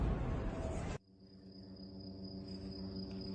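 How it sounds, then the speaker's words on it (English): A loud rushing burst ends suddenly, leaving a dense chorus of crickets chirping at night as a steady high-pitched trill over a low background hum. "And the crickets were out on this one."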